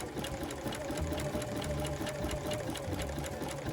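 Sewing machine stitching fabric applique at a stitch length of 2.0, a steady rapid mechanical whir with even needle-strike rhythm, close and continuous without talk.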